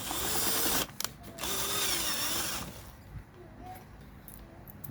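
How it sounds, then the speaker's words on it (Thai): A wrench tightens the cylinder-base nuts on a KT-CS1700 chainsaw, giving a loud grinding ratchet-like rasp, a few quick clicks, then another long grinding turn before fading into quieter metallic handling. "เราจะขันเข้าไปดูนะครับว่าจะแน่นไหมนะครับ"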